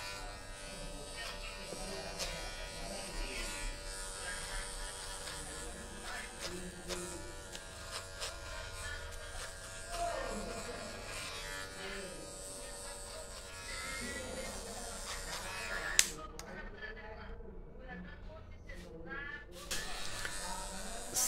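Electric hair clipper buzzing steadily while trimming the sides of a haircut, a continuous close hum through most of the clip that breaks off near the end, with a voice talking over it.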